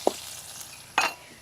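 Small onions frying in oil with mustard seeds in a pan, a soft continuous sizzle broken by two brief bursts of stirring and utensil contact, close with no talking.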